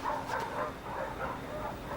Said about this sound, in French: un chien errant, je viens de l'amener